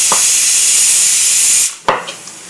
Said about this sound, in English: That's what a pressure cooker sounds like